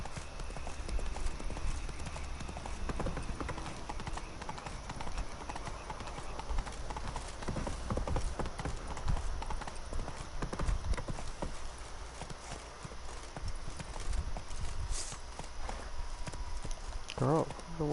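In The Witcher 3, a horse's hooves clip-clop in a quick, steady galloping rhythm, with someone talking over them throughout.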